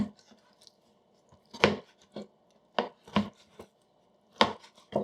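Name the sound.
knife cutting food into strips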